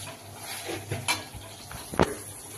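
A spoon stirs cumin and coriander powder in a pan over the heat, with a few soft scrapes and clinks and one sharper knock of utensil on metal.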